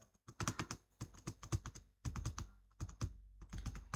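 Rapid bursts of keystrokes on a computer keyboard, entering cell references into an Excel spreadsheet, sound close and clear in uneven clusters with short pauses between runs, and no voices are heard.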